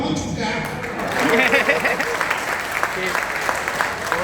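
Audience at a Hindi poetry gathering (kavi sammelan) claps, a dense wash of applause that builds and carries on, with voices talking over it.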